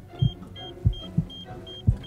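A patient's heartbeat in the Surgeon Simulator video game thumps as low, steady pulses about two-thirds of a second apart, with short high monitor beeps repeating alongside and no talking.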